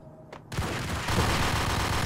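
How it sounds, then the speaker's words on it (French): Ingram submachine gun fire in the Max Payne video game, a faint early pop and then a sustained dense burst of rapid shots that grows louder partway through. "Une petite rafale d'Ingram lui ferait du bien"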